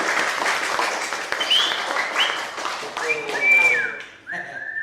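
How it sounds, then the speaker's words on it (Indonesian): An audience at a variety show by the Philhumoric Orchestra (PHO) claps on cue in a steady wash of applause, with whistles cutting through above it. Voices mix in, and the clapping thins out near the end. "1, 2, 3 tepuk tangan."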